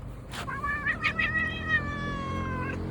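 A jealous cat lets out a long, drawn-out whining meow close by, its pitch wavering over a couple of seconds with a few soft taps around it.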